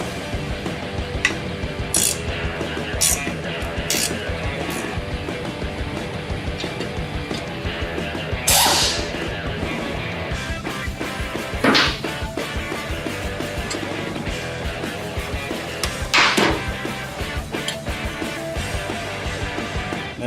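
A ratchet tightens a stabilizer bar bracket on a Jeep Wrangler during a suspension lift. Quick bursts of close mechanical clicking come in several separate runs over a steady workshop background, with no talking.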